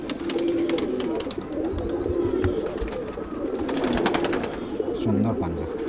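Madras pigeons coo in low, repeated murmurs amid a busy flutter and rustling of birds, with some background voices.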